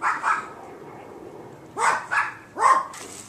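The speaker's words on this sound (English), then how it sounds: "interrupted with dog barking" A dog barks several times indoors, a couple of quick yips near the start and then three louder barks in close succession, with quiet room tone between them.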